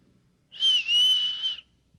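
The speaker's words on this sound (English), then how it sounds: "And you whistle back." A single clear, high whistle sounds as a signal in an old radio drama, lasting about a second with a slight dip midway, close and alone against a quiet background.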